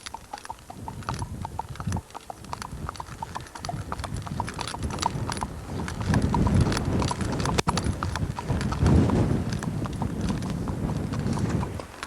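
A horse's hooves clip-clop steadily outdoors on a windy day during training for a flex connection headset, the hoofbeats close and continuous with wind noise underneath.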